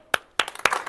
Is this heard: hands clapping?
yes